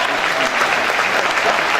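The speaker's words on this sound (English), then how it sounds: "Give a big round of applause!" Dense crowd applause fills the whole moment, a loud continuous wash of many hands clapping.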